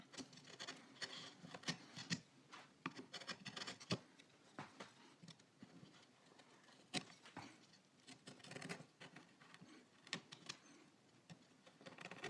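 A file rasps over a pine cone carved from wood with traditional gouges, quiet irregular scraping strokes and soft rubbing close by, with no talking.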